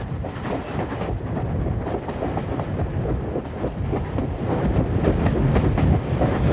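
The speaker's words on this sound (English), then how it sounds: "In July 1965, the loco heads a relief train from Crewe." Steam locomotive 45596 Bahamas heads a relief train out of Crewe, a steady rumbling roll of wheels and carriages with rhythmic clicks over rail joints, loud and continuous throughout, no voices.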